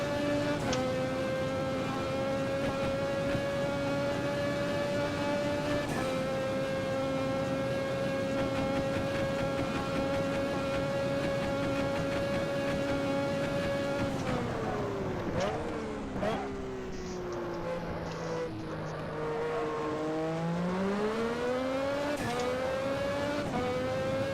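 A classic Formula racing car engine laps Hockenheim in a racing game, holding a loud steady high drone through one gear, then dropping and surging again through gear changes and braking into a corner.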